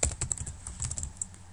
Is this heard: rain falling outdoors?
no